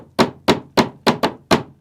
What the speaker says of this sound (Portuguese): nas batidas repetidas de um martelo